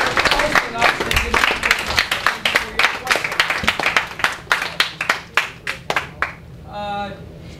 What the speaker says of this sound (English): why don't we give Mr. Bryan Claps a round of applause